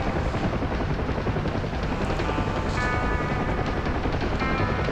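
UH-1 Huey helicopter in flight in the DCS combat simulator, a steady loud rotor and turbine roar with a dense chopping texture that runs unbroken throughout, no voices over it.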